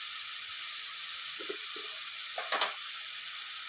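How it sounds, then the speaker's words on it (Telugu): Radish pieces fry in a pan with turmeric and ginger-garlic paste, making a continuous even sizzle, with a few brief stirring scrapes and clatters partway through. "ఇంకొంచెం సేపు ఇది ఇందులో ఉన్న నీరంతా ఇంకేదాకా మనము ఫ్రై అయితే ఇట్లా చేసుకోవాలి"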